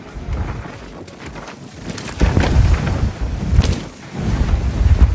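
Strong storm winds roar in loud, buffeting gusts against the microphone, with no rain, during a red-warning gale in the UK and Ireland.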